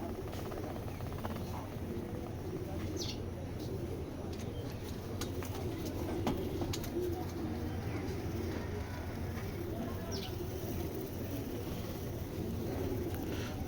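Tournament pigeons kept as a pair in a loft give soft, low cooing over a steady hum of background noise, with a few faint chirps scattered through.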